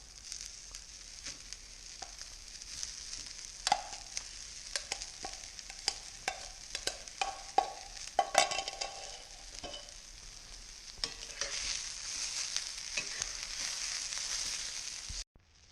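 Rice being stir-fried in a hot pan for shrimp fried rice: a steady close sizzle broken by repeated sharp scrapes and clacks of the spatula tossing grains, with the hiss swelling louder and more even toward the end, no voices.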